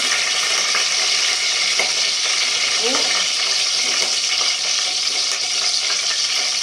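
Cumin seeds and fresh curry leaves crackle in hot oil, a loud continuous sizzle with scattered pops, close up, with no clear talk.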